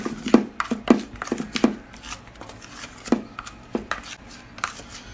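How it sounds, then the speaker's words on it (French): Ingredients for a homemade neck and chest wrinkle remedy are stirred together into a paste, heard as irregular, close, crisp clicks and taps of a utensil against a bowl with short pauses between. "il ne reste plus qu'à venir mélanger l'ensemble"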